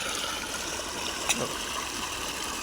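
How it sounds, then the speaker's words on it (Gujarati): Water pumped by an electric motor pours into a fodder field on a farm, a steady continuous rushing flow heard close and evenly throughout, with one small splash midway. "જોઈ લો મેં મોટર ચાલુ કરી દીધી તો હવે પાણી જાય ચારામાં"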